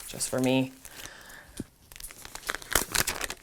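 Pack of drawing paper for brush pens being opened and handled, with crinkling, tearing and rustling bursts scattered through the clip and a voice talking over the start.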